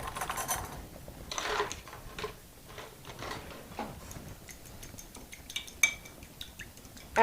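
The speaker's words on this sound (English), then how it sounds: "we're going to just whisk that all together" A whisk stirs salad dressing with a little dill in a bowl, giving quiet, irregular metallic clinks and light scraping with brief pauses between strokes.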